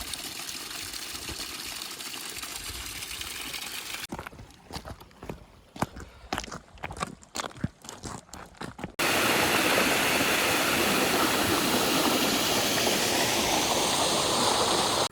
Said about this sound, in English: it basically just follows the stream, but there's loads of mini waterfalls, almost like plunge pools.